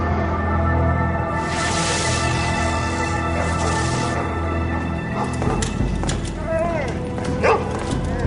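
A dog gives a few short yips and whimpers amid a dense animated-show soundtrack, the calls brief and mid-loud under music and effects.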